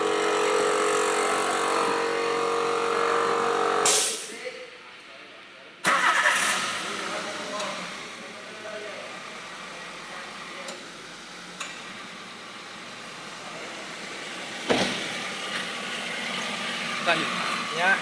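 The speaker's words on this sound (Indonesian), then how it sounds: "Kita hidupkan mesin." Car engine started and left idling during a periodic service on a workshop lift: a loud mechanical run cuts off, then the engine catches with a burst and settles into a quieter steady idle, with occasional clicks and knocks.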